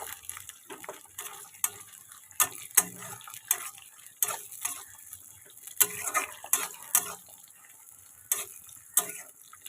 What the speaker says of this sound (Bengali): টমেটো কুচিটাকেও ভালো করে পেঁয়াজের সাথে ভেজে নেব